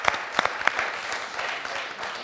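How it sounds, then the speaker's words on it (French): A game-show studio audience applauds, a few sharp individual claps up front giving way to a steady wash of clapping from the whole room. "Applaudissements de toute la salle"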